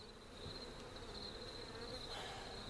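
Honey bees buzz around a hive while pollen patties are being mixed, a dense, steady droning hum close by that stays constant throughout.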